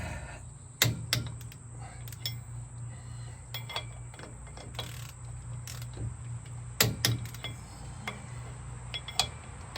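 A ratcheting wrench clicks in short irregular bursts while tightening the wheel spacer nuts on a TYM T474 tractor, close and moderately loud with sharper knocks now and then.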